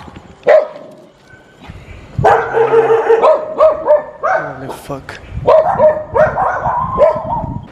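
Dogs in Laos bark loudly and close by in bursts of several sharp barks and yips, with a person's voice swearing between them.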